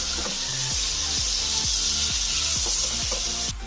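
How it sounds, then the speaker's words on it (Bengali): Cumin and coriander powder sizzle steadily in a hot pan with oil and turmeric for a vegetarian ghugni, with scraping stir strokes about every half second, close and continuous with no talk. "আবার একটু ভালো করে আমি কষিয়ে নেব"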